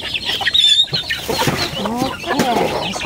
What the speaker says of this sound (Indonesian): hari ini saya mau kasih bagi ini ayam makan